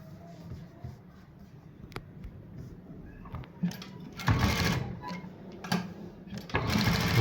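An electric sewing machine runs in bursts while stitching a straight seam on fabric, its motor whirring close and fairly loud in two longer runs with brief pauses between.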